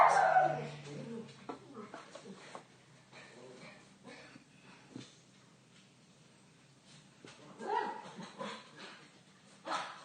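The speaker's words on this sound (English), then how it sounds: "What are they barking at?" Dogs bark and yip in scattered bursts, some close and some farther off, with a few whimpers mixed in and quieter stretches between.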